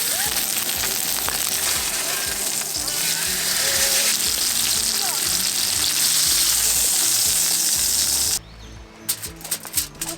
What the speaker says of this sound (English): cook the steak for about 1 minute on each side